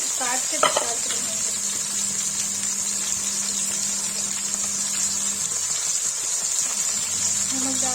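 Mushrooms frying in a pan make a steady, moderate sizzle that runs continuously, with a faint low hum underneath and a brief clink near the start.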